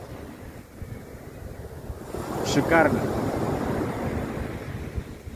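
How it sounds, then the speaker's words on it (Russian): Winter waves of the Black Sea wash onto the sandy Uchkuevka beach near Sevastopol, a steady rushing surf swelling and fading up close, with wind buffeting the microphone and someone speaking briefly. "И вот она, вода. Черное море. Волночками прямо подбирается поближе."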